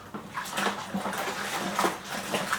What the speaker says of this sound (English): Now we've got to stir this right in.